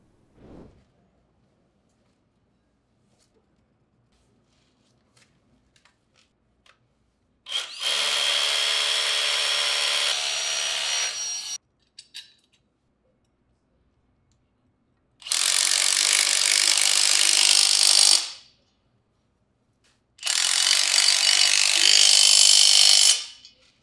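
Three bursts from a Bosch GDS 18V-450 HC cordless impact wrench driving 8 mm concrete screws outdoors, each a loud, sustained rattling hammer lasting a few seconds, separated by silence with faint handling clicks before.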